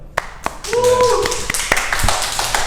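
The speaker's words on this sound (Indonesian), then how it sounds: "Tepuk tangan teman-teman" Clapping from a small audience at a tattoo talk show, a few scattered sharp claps at first, then a short burst of applause, with a brief voice in the middle.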